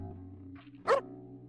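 A single sharp dog bark from the PlayStation game Parasite Eve II, loud and close, preceded by a faint yip over a low steady game soundtrack hum.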